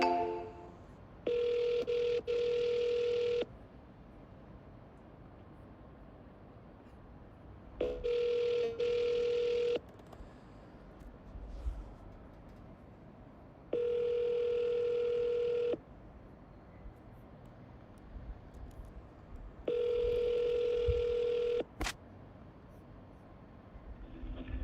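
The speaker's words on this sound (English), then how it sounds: "It's dialing." Phone call being placed: a steady ringback tone sounds in four evenly spaced bursts of about two seconds each, separated by quiet gaps with faint background hiss, moderately loud and with no one speaking.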